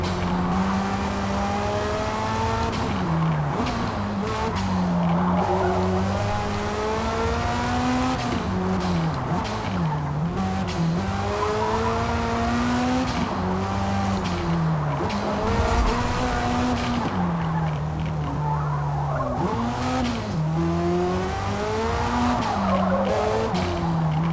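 Race car engines roar with harmonic pitch sweeping up and down through gear changes, mixed with sustained tire squeal and skidding, in a Forza Motorsport replay; loud and continuous throughout, no talk.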